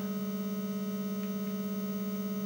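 Faint, steady electronic drone from the engine of a car in the NES racing game Road Fighter, holding an unbroken buzzing pitch with a few soft blips over it.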